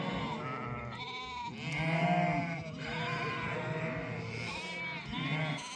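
A flock of ewes with their lambs bleats almost continuously, many overlapping voices at varied pitches, some close and loud, others farther off across the pen.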